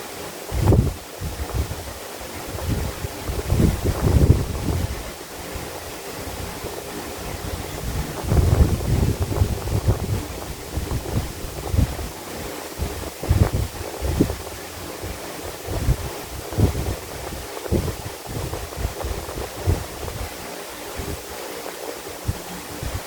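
Waves breaking on a beach with steady wind buffeting the microphone, a continuous rushing roar with repeated surges of surf, fairly loud and close, no voices.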